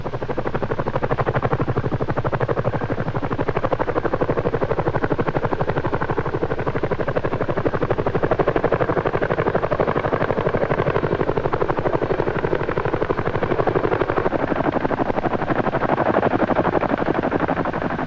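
A heavy Chinook helicopter hovers close by, its steady loud rotor roar and engine whine continuous throughout with no letup.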